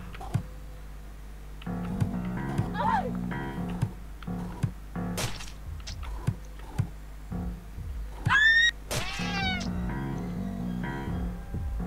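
A cat meows several times in a video game, with sharp rising and falling cries standing out clearly over game music and sound effects, amid scattered clicks and thumps.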